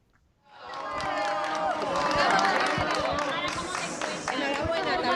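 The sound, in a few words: journalists applauding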